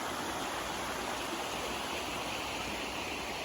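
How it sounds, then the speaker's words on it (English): Steady rush of a creek flowing at the Roaring Run Furnace trailhead in Virginia, a constant broadband wash of moving water with no voices, holding level throughout. "we discovered this beautiful creek"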